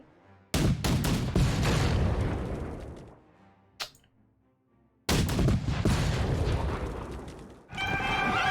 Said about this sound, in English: I only got one disruption out of 2 cannon hits.